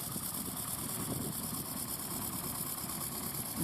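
A small grey Ferguson tractor works a small plough at a ploughing match, its engine chugging at a steady, even pace from moderate distance with a faint high whine, no voices.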